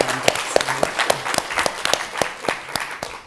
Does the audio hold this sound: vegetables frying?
no